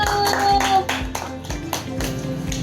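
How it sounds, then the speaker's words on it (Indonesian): Children in a classroom clapping their hands together during a science lesson, a brisk run of roughly rhythmic claps close by and fairly loud, with a faint tone and some classroom noise beneath. "Kasih tepuk tangan dulu."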